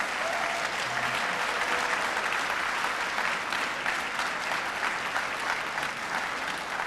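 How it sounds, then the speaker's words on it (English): Sustained applause from an audience at a school Salute to Service ceremony, a dense steady clatter of clapping that holds at the same level from start to finish. "Please join me in a final round of applause for all of our partners"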